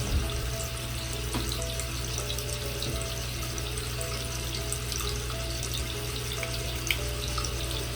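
A bathroom tap runs steadily while a child rinses off, a continuous close rush of water with faint splashes and drips throughout, and nobody speaks.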